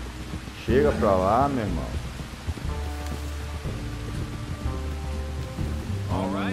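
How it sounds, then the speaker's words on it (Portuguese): Heavy rain in the video game Red Dead Redemption II falls as a steady, dense hiss through the whole stretch, with someone talking over it and some faint in-game music or voices underneath. "Rapaz, a chuva não passa, velho. Impressionante."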